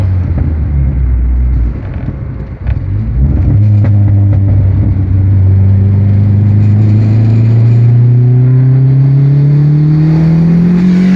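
A car engine revving hard under boost, a deep rumble that climbs steadily in pitch as it accelerates, loud and close for the whole stretch.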